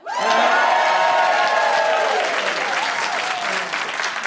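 A studio audience at a television comedy news show bursts into loud, sustained applause with some cheering. The clapping begins sharply, stays dense and close, and then gradually thins out.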